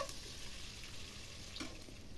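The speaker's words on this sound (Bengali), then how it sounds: "সব কিছু ভালো করে ভেজে নিচ্ছি।" Chopped onions and two bay leaves fry in soybean oil until lightly browned, giving a soft, continuous sizzle and crackle with an occasional stir, quiet and close.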